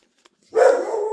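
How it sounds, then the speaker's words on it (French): A pet dog gives a single sharp, fairly close bark that rings out after near silence, with a faint click before it. "je suis désolée pour les aboiements de mon chien qui a dû entendre du bruit dehors"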